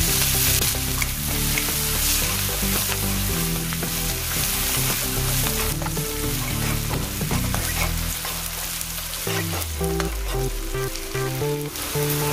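A steady, loud sizzle of onions, asafoetida and chillies frying in a hot pan runs throughout, with stirring and clinking, while music plays in the background.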